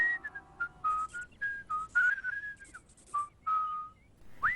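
A cartoon character whistles Christmas carols to himself, a clear solo melody of short sustained notes and slides, close and unaccompanied.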